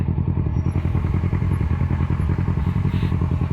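A Kawasaki Versys 650 fitted with a Two Brothers exhaust rumbles close by with a rapid, pulsing exhaust beat, loud and continuous while riding.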